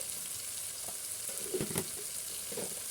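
Chicken pieces with chili powder and turmeric sizzle steadily in a frying pan, with a few louder scraping stirs of a spoon partway through; no one talks.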